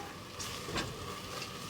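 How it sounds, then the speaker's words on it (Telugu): Chopped onions frying in a pan for a Telangana-style goat kidney curry, a soft continuous sizzle with a faint stir or scrape partway through. "సో ఉల్లిగడ్డలు చిన్నగా కోసుకోవడం వల్ల ఏంటంటే జల్దీ వేగుతాయి అన్నమాట."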